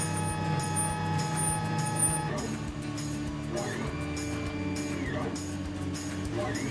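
A 3D printer's mechanism starts moving to print the base of a figure, giving soft whirring motor sweeps and faint ratcheting clicks at low level, with a steady tonal hum underneath.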